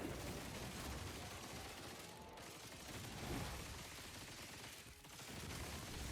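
Weapon explosions in the game Grind Survivors pour out as a dense, loud, continuous barrage of blasts and gunfire, dipping only briefly twice.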